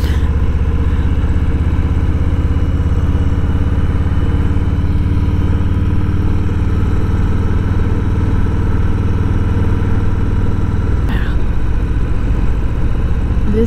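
Harley-Davidson Low Rider motorcycle cruising in low gear on Needles Highway, its engine a steady, loud low rumble throughout with wind noise and no letup.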